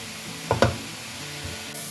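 Grated carrots for gajar ka halwa cook in a pan over a high flame to dry off their water, giving a quiet sizzle with a couple of brief stirring scrapes close by.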